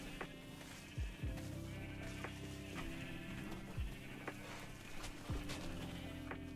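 Sheep in Minecraft bleat softly now and then over a quiet game background, a few short separate calls spread out at a distance with no talking.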